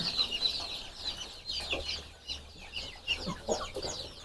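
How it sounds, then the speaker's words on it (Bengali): High, rapid cheeping of many native (desi) chicken chicks peeping together in quick bursts, close by on a chicken farm, with a low hum underneath. "এটি দেশি মুরগির বাচ্চা"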